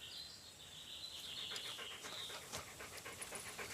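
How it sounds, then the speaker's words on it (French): Dogs pant steadily and fairly close in an outdoor scene from a 2011 French comedy film, with faint chirping birds or insects sounding in the background throughout. "Allez les chiens."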